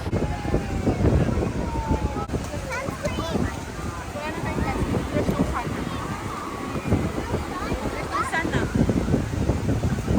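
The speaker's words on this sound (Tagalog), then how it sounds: "masyadong mahangin ngayon pero hapon na" Strong afternoon wind buffets the microphone outdoors at a Boracay beach resort with a steady roar, while people talk over it throughout.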